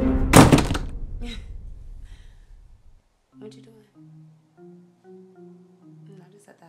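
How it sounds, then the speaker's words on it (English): A door slams shut with one loud, sharp thunk up close, followed by a fading rattle, then quiet with faint tones and a voice murmuring in the background. "And don't slam the door neither."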